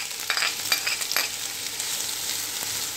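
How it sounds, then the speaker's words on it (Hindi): Finely chopped onion and green chili frying in hot oil for dabeli, a steady close sizzle with a few scrapes and clinks of stirring early on. "हम इसको 2 से 3 मिनट तक भूनने देते हैं कि थोड़ा प्याज थोड़ा ट्रांसपेरेंट हो जाए"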